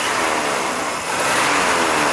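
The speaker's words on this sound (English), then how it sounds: "No, it's just the radiator fan." A car engine runs at idle with a radiator fan whooshing loudly alongside, a steady broad rushing drone heard up close, with no talking.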